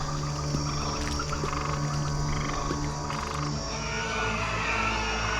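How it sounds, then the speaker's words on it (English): Animated frogs rising from blood-red waters in ancient Egypt croak in a dense, continuous chorus, many voices overlapping into a loud, watery, rhythmic din with no pauses. "The stinking blood waters suddenly produced millions of frogs."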